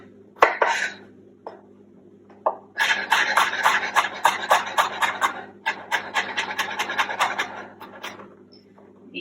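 Knife chopping fresh garlic on a cutting board in a home kitchen, a quick run of sharp, close, evenly spaced taps after a couple of isolated knocks, with no voices.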